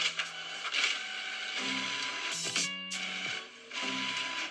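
A printer runs with loud mechanical whirring, buzzing motor tones and clicking gear noises. The sound stops and starts in bursts, with a brief rattling passage.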